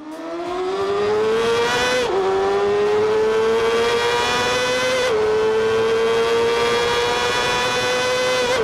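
A stunt rider's motorcycle accelerates hard past 175 km/h, its engine whine rising steadily through two clear gear shifts. The sound is loud and close, with no talk.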